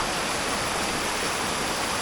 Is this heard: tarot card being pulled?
no